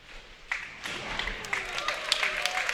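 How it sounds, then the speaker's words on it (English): Audience applause at a PWBA Tour professional women's bowling tournament after a spare, a sustained patter of clapping that swells from a few hands and continues under a commentator's talk. "Everybody's clapping for the spare."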